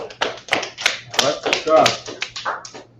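A small group claps for someone named Abangadar: a dozen or so close, uneven, sharp claps in a loose rhythm, with voices talking over them.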